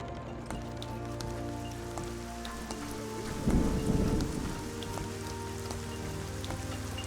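Steady rain pours down with a rolling rumble of thunder swelling midway in the video game Gothic 4 Arcania, a dense continuous outdoor storm with no voices.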